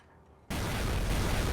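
A sudden loud blast in Team Fortress 2 sets something on fire, jumping from near quiet into a sustained roaring, crackling burn that holds steady and close.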